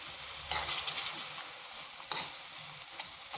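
Pork, carrot and potatoes being stir-fried in a pan, a steady low sizzle with two sharper scraping stirs of the utensil, close and moderately quiet, no voices.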